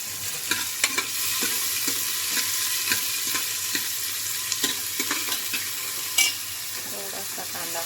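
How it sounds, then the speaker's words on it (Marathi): Chopped onion with curry leaves fries in a pan for goat mutton curry, a steady hot sizzle broken by repeated scraping stirs of a spoon, close and continuous. "थोडासा कांदा हलका तळून द्यायचा"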